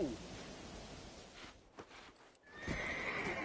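Horses in the Red Dead Redemption video game give a whinnying neigh and hoof clops near a cliff, with a rushing wind-like background and brief thuds, fairly faint overall.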